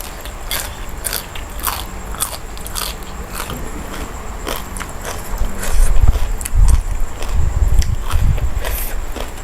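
A crunchy bite into spicy Thai papaya salad with stink beans and crisp stems, loud close chewing with crackling crunches that grow heavier and deeper toward the end, with no talking.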